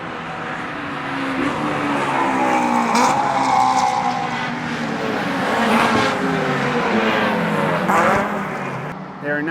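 Race cars pass on the second lap of a race, their engines rising and falling in pitch in a continuous, loud blur of several machines going by, with faint tire squeal.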